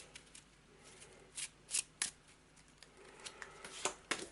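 A deck of board game cards is shuffled on a table, with several quick riffling bursts and soft slides, close and fairly quiet, arriving in uneven clusters with brief pauses between them and no talking.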